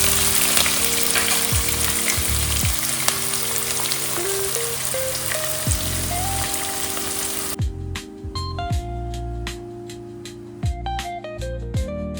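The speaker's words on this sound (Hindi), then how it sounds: "अब मैं इसमें प्याज डालूंगी। इसे कुछ देर फ्राई करेंगे।" Chopped onion fries steadily in hot oil in a pan while a yam curry is cooked, giving a dense continuous sizzle with occasional stirring scrapes and clinks, fairly close and with no talking.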